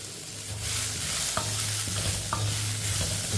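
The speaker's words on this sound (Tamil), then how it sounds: "இதையும் லைட்டாக வதக்கிக்கிறோம்." Chopped beetroot and vegetables are sautéed in a pan, with a steady close sizzle and a couple of clear scraping stirs, and no talking.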